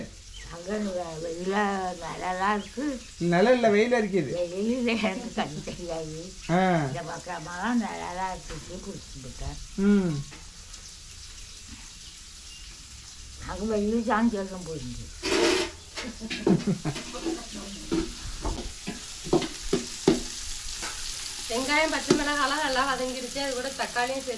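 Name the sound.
tomatoes sautéing in a pan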